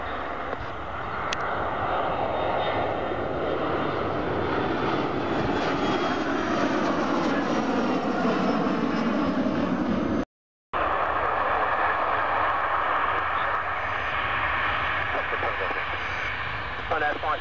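Aircraft engines roar loud and steady at East Midlands Airport, a sustained powerful drone that briefly cuts out, then resumes with the same intensity.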